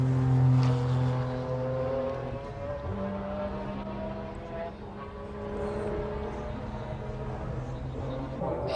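Race car engine at night in the Le Mans 24 Hours, 1996, with a sustained droning tone that shifts in pitch and a fading pass in the middle, under a commentator's voice.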